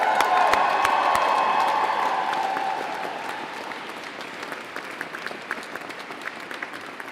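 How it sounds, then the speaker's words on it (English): Sustained round of applause from a large graduation audience in a cathedral, dense and loud at first, then gradually thinning to scattered claps over several seconds. "Can you give them a real round of applause?"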